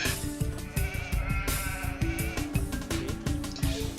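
Sheep bleating in the strategy game Age of Empires II: The Age of Kings, with repeated bleats over busy game music and village sounds, no talk.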